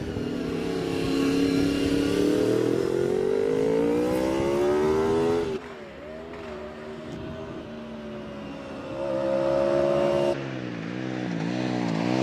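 A Honda Maestro 398cc twin-cylinder motorcycle races past beneath a bridge at a hill-climb, its engine note rising loudly, dropping briefly as it shifts, then climbing again, with no talk over it.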